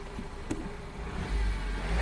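A flood-damaged Ford Focus with a dual clutch transmission idles steadily as it is shifted into reverse, a low engine rumble that swells louder in the second half, with a brief click near the start.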